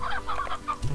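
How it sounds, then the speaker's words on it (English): Chickens in the video game Slime Rancher cluck in a quick series of short, close calls, with a faint thump at the end. "Thank god, the poor chickens."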